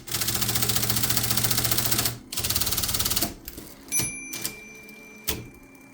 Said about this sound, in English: Let's bump that up to 9. Now this motor is rated 10 to 12 volts.